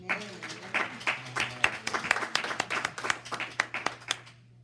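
Scattered hand clapping from a small congregation at a church service, a couple dozen sharp claps in a loose, uneven rhythm over a low steady hum, fading out near the end.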